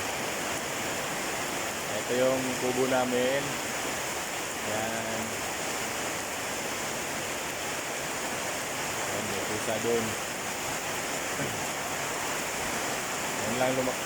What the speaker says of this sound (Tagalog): Ayun lang lumakas ang ulan ngayon.